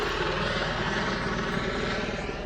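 A helicopter in the Friday the 13th video game throbs steadily with a constant rotor thump and engine whine, loud and close throughout with no talk.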